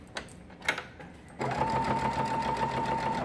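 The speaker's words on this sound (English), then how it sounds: "I'm going to back stitch and take it out" After a few soft handling taps, a sewing machine starts up and runs steadily, back stitching at the end of a burp cloth seam, with a constant whirring tone close by.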